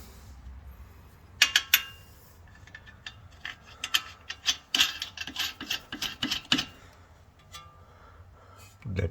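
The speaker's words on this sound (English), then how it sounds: "put the two bolts here and tight the linking bar bolt over here" A ratchet wrench tightening bolts while a Toyota Corolla strut is refitted: bursts of rapid clicking and metallic ratcheting, close by, spread across several seconds with pauses and light handling noise.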